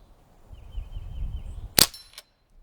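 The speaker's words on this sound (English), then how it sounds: "it's nice hearing the target hit each time" A single sharp metallic crack as a .177 pellet from a Ruger 10/22 pellet rifle strikes a target, brief and close, followed by a short ringing tail over low background rumble.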